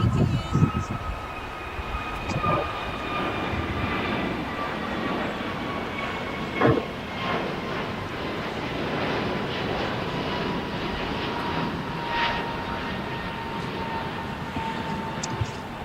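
An American Airlines jet departing LAX, bound for Philadelphia, gives a steady, sustained engine roar with a faint tonal whine, heard from a moderate distance and holding level throughout with a few brief bumps.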